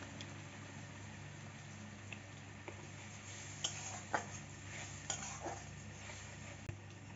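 Masala with chopped tomato being stirred and fried in a pan for a prawn and potato curry, with scattered clinks and scrapes of a utensil against the pan over a low, steady cooking hiss.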